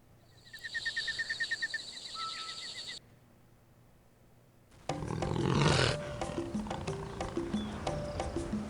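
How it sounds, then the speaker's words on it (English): A leopard's roar, a rusty saw-like series of rasping coughs repeated in a quick rhythm for a couple of seconds, loud and close, followed after a pause by a busier stretch of animal calls and background sound. "A leopard's roar sounds nothing like a lion's. Instead, it's been described as a rusty saw or a coughing sound."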